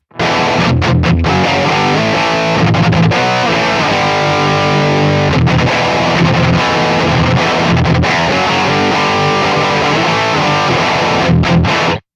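A heavily distorted electric guitar played through a Neural DSP amp simulator plays sustained chords and riffs, loud and saturated, with short gaps between phrases.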